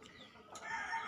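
Native laying chickens on a farm cluck faintly, short soft calls rising toward the end of the brief clip.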